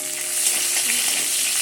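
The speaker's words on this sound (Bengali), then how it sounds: "পেঁয়াজ কাঁচা লঙ্কাটা দিয়ে এভাবে নেড়ে চেড়ে নিচ্ছি।" Onion and green chilli frying in a pan and being stirred, giving a close, loud, continuous sizzle with no talking.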